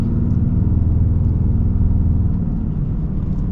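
An AEV Prospector XL Mega Cab HD truck cruising on the road, its engine a steady, close, low rumble with road noise that holds evenly throughout without any speech.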